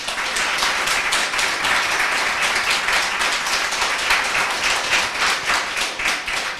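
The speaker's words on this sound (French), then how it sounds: "Je vous demande de l'applaudir." A crowd applauds steadily, dense clapping from many hands holding an even level throughout without voices.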